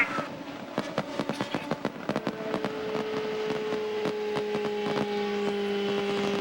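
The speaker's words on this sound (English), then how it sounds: "Fireworks all over the place on the backstretch celebrating the victory of the rookie." Fireworks go off over the backstretch after the 2003 IndyCar race win at Homestead-Miami, a rapid string of loud cracks and pops layered over a rising, sustained crowd and engine roar.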